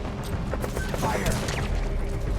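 Rapid bursts of gunfire from Metal Gear Solid V: The Phantom Pain crackle over a dense battle rumble, loud and close, with voices mixed in the background.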